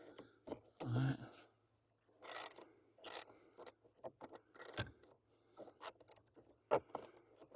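Ratchet wrench loosening the fastener on a blower resistor in a 2005 Toyota Tacoma, heard as short bursts of clicking and rattling close by, separated by quiet pauses, with brief speech in between.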